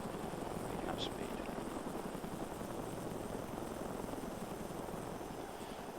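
Helicopter in a video game flight simulator, a steady, dense rotor and engine rumble throughout, fairly faint and even, with a voice speaking over it.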